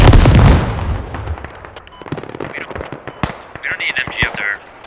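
In the video game Squad, a .50 cal machine gun fires in a loud burst of rapid, close reports that fade into scattered distant gunfire and explosions during a large 40v40 battle, with voices talking over the noise.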